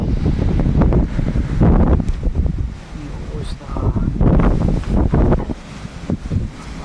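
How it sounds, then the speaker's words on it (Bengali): Strong storm wind from the west roars through trees and buffets the microphone in gusts, with a brief spoken remark partway through. "পশ্চিমা হাওয়া, পশ্চিম দিক থেকে হাওয়াটা হচ্ছে, গাছগুলোকে কি হচ্ছে"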